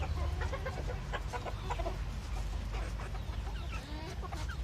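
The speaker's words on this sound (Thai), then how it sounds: "ไก่พวกนี้จะเชื่องครับ ไม่กลัวคนครับ เป็นฝูง" A tame flock of fluffy grey ornamental imported hens, all breeding females, clucks steadily and softly, with overlapping calls over a low background rumble and no talking.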